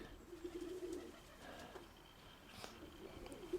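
Soft, low cooing from pigeons over a faint background hiss, a couple of brief calls spaced apart.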